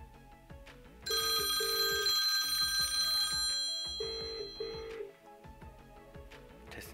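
Outgoing call ringing tone in the Zoiper VoIP softphone app on Windows, two repeated ring bursts with a pause between, heard over a steady low background hum.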